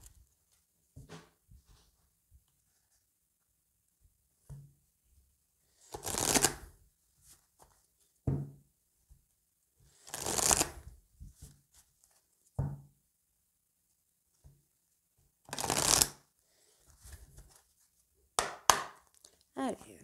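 Oracle cards being shuffled for a reading, soft papery riffles and taps in short separate bursts with pauses between, close and fairly quiet.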